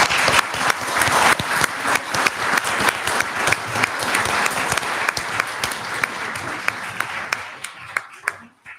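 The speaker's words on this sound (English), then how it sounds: "May we give a round of applause to this?" An audience at a League of Women Voters candidate forum in Southern Shores breaks into a loud, dense round of applause, with sharp individual claps standing out, steady for several seconds before thinning out and fading toward the end.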